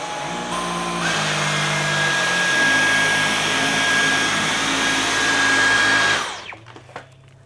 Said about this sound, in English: Now let's go to the Dyson V11 and see how it goes on high power.